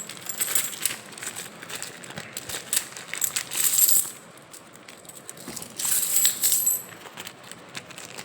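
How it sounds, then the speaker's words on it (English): Old Indian one- and two-rupee coins clink and jingle as they are handled, bright metallic taps coming in clustered bursts, close and fairly quiet with no talk. "Here we have the coins."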